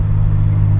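A 1991 Nissan 300ZX Z32 twin-turbo engine hums with a deep, steady low rumble, loud and close, holding an even tone throughout the brief moment.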